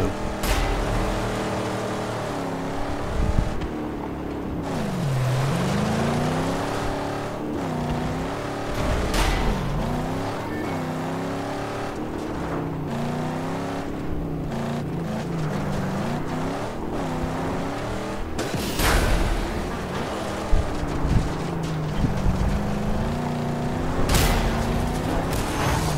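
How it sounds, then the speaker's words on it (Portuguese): Car engine in the video game Mad Max, revving and droning loudly and continuously as the vehicle is driven, with pitch rising and falling through gear changes and a few sharp impact bangs as it is smashed for scrap. "E agora eu vou pegar o meu carro e vou destruir pra pegar sucata."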